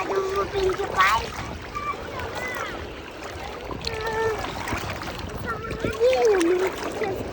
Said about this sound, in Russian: Большие волны.